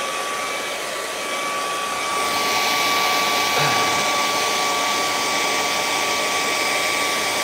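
A hair dryer blows steadily over acrylic paint on a canvas of a snowy mountain scene, a loud continuous whir holding throughout with a slight rise in level partway through.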